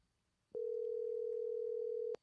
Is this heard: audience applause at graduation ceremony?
no